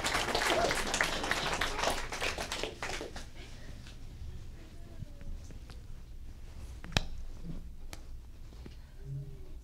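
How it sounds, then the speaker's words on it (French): Applause at a funeral ceremony, a moderate burst of clapping from a gathered audience that fades out after a few seconds into a quiet room with a few small scattered sounds. "On l'applaudit, bien sûr."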